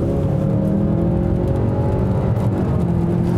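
A large SUV with a CVT accelerates under full throttle, its engine droning loudly and steadily from inside the cabin with a rising whir.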